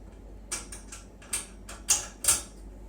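A nut being tightened onto a screw during assembly of an RH Series magnetic sweeper, heard as a few short, close metallic clicks and ratchet-like ticks spaced irregularly over a quiet background.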